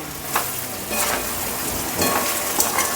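Okra fries in a pan with spices, giving a steady close sizzle with a soft scrape of stirring now and then and no talking.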